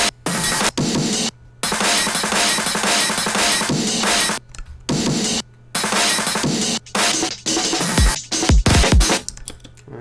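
Chopped breakbeat drum loop in amen break style, produced in FL Studio, with dense, busy hits that cut out abruptly several times, loud and unaccompanied by voices.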